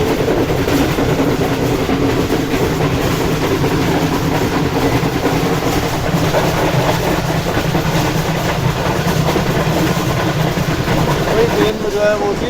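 Karakoram Express passenger train in winter, heard from inside a carriage as a steady rumble and rhythmic clickety-clack of wheels on rails, with someone talking over it.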